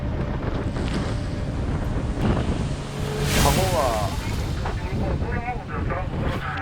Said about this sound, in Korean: 앞에 큰 파도가 오니까 스톱하고